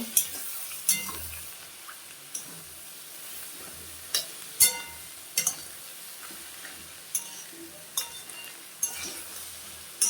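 Spatula scraping and clinking against a pan as fish roe and ridge gourd are stirred, with a soft sizzle underneath and sharp intermittent ticks spaced a second or so apart.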